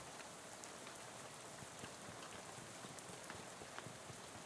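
Steady rain falls in the video game Shadows Over Loathing, a dense, even hiss of raindrops with scattered small splashes, unbroken throughout and with no talk.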